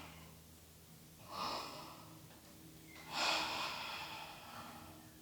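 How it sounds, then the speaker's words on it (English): Slow, audible breaths during a modified Sun Salutation B yoga sequence, two soft airy inhale-exhale swells close to the microphone over a quiet room. "Breathing."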